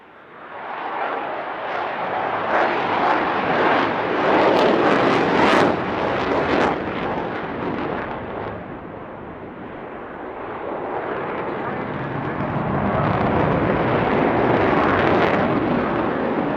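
Jet aircraft roaring at an air show over the English coast, engaging reheat (afterburner) as it pulls out of a manoeuvre; a loud, broad, sustained rumble that swells and fades and surges again, heard without talk.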